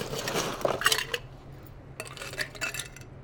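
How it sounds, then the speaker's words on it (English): Ice knocks and rattles against a glass as a Kentucky bourbon cocktail with honey orange zest syrup is stirred, two bursts of close clinking separated by a brief pause. "We're going to give it a good stir."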